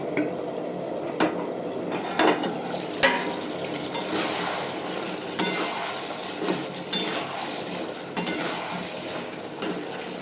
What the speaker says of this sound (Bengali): একটু দেখি ঢাকনাটা তুলে।